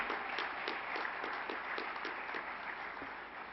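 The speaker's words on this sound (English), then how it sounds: "May I have once again a huge round of applause for Mr." A large audience at a national awards ceremony applauds an honoree, a continuous roar of clapping with some individual sharper claps, steady and fairly distant, no voices over it.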